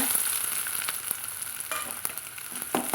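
Shallots and garlic sizzle and crackle steadily in hot oil, with occasional clicks from stirring in the pan.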